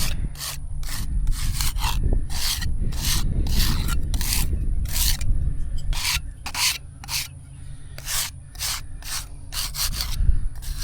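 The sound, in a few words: scraping dirt off grave markers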